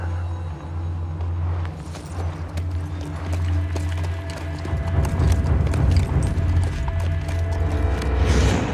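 Two ridden horses clop steadily along a trail, their hoofbeats a continuous, fairly close clatter that grows louder and busier toward the end, with light rustling and movement around them.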